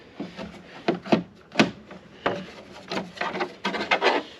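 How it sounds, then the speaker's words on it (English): Screws being worked loose from a panel covering the inverter charger in a 2023 Forest River Wolfpack toy hauler, giving a series of close, uneven scraping and creaking knocks with short gaps between them. "You take out 4 screws"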